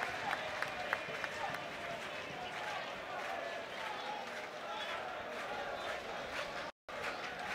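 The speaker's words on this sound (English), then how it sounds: "giving Lee Wallace a round of applause for the shot" A football crowd at a Rangers versus Ross County match applauds a shot, with scattered clapping and a broad stadium murmur heard at a distance under a commentator's voice.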